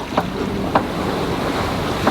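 Wind and waves on the open Baltic Sea aboard a sailboat, steady wind rush with three soft wave slaps against the hull, no talk.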